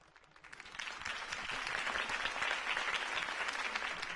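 A crowd applauds at a campaign rally for Harvey Dent in Batman: The Telltale Series. Clapping swells quickly from quiet and then holds as a dense, steady roar, with no talk over it.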